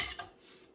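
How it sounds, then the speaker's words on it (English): Dishes and cutlery clink during hand washing, one sharp clatter at the start, a second lighter knock, then a soft fading rinse. "How many of you still wash the dishes"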